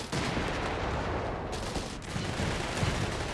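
Artillery fire in Company of Heroes 3 during a 4v4 battle, including Bishop self-propelled gun shots, heard as dense, continuous, loud booming and crackling gunfire with no clear gaps between blasts.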